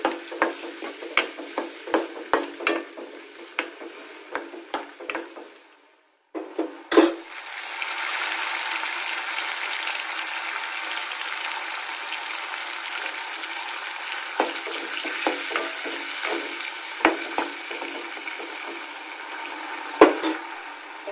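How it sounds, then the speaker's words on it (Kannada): Tamarind sauce for sambar simmering in a pot, oil separating on top; a steady bubbling sizzle runs throughout, briefly dropping out once before resuming, with occasional clinks and stirring scrapes. "ಇದಕ್ಕೆ ಹುಣಸಿ ಹುಳಿ ಚೆನ್ನಾಗಿ ಕುದೀತಾ ಇದೆ ಎಣ್ಣೆ ಬಿಟ್ಕೊಳ್ತಾ ಇದೆ"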